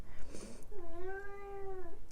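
A house cat gives a single clear, drawn-out meow close by, rising and then falling, following a brief rustle.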